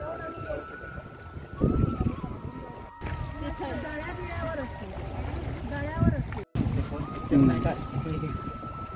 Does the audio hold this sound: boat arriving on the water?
yes